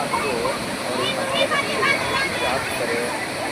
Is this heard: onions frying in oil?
no